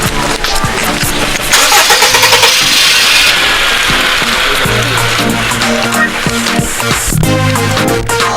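A car engine cranks and turns over, busy mechanical sound mixed with music and background noise, continuous and fairly loud throughout.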